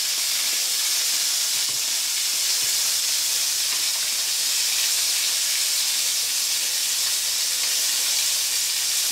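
Beef pieces browning in a pan for a beef-and-carrot stew, a steady loud sizzle and hiss that continues without a break and with no talking.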